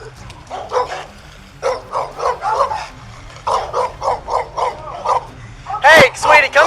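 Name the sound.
dog barking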